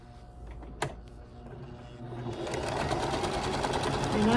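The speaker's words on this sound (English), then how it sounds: "now I'm going to sew these units together" Sewing machine joining scrappy quilt fabric units, starting quietly after a brief click and building to a close, steady rapid whir of stitching.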